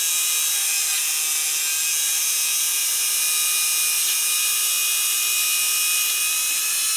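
A Dremel rotary tool whines continuously at high speed while cleaning an H&K USP .45 ACP pistol that has sat in a holster for years, a loud, steady buzzing drone close to the listener with no pauses.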